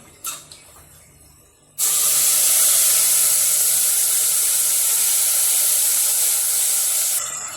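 Ground masala for mushroom biryani drops into a hot pan after a couple of quiet clicks, bursting into a loud, sustained sizzling hiss that holds steady for several seconds before cutting off.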